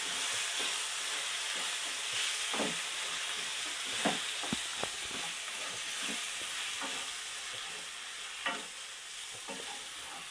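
Chicken masala with onion-garlic spice mix and garam masala frying in a pan, a steady close sizzle with scattered stirring scrapes and clinks throughout, no talking.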